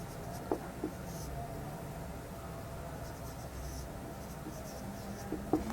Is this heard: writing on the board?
yes